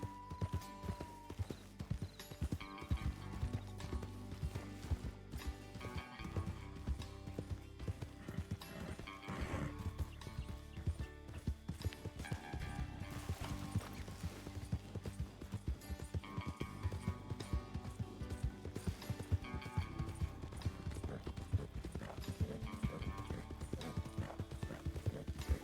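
Horse hooves clip-clop steadily at a trot on a trail in Red Dead Redemption 2, close and continuous for the whole stretch, with an occasional whinny and a busy layer of game ambience underneath.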